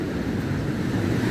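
Water rushing steadily along an urban canal at Arizona Falls, a constant broadband wash with no other sounds over it.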